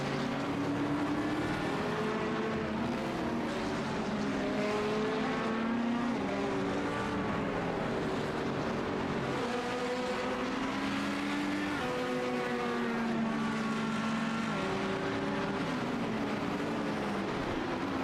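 GT3 race cars in a sim racing endurance event at The Bend Motorsports Park scream around the track, their engines rising and falling through gear changes in constant loud, overlapping whines, with no talk.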